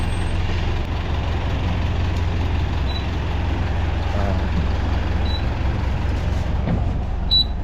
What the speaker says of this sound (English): Bus should be arriving right now, actually.